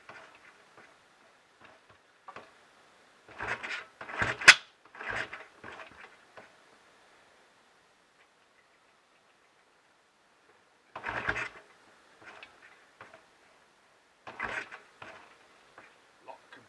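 Rebuilt Royal Enfield Bullet 500 being kicked over: two bursts of mechanical clunks and ratcheting clatter a few seconds apart, close and fairly quiet, with silence between and no firing.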